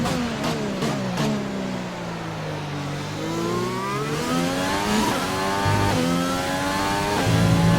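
Race car engines roar in a racing video game, high revs climbing and dropping through repeated gear shifts, steady and close, with brief transients where other cars pass nearby.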